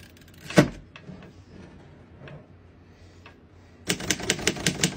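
Keys clack on a 1940 Underwood Universal portable typewriter: a few isolated sharp strikes spaced out, then a quick run of crisp, close, evenly paced keystrokes at the end.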